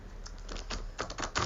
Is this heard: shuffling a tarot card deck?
yes